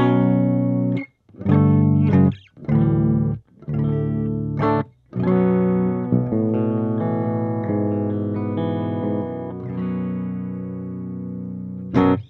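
Electric guitar played through a Kyro Audio Kuki pedal on its clean channel with the classic voice, with a few short strummed chords and then a long ringing chord that sustains and slowly fades, loud and close with slight grit and no talking.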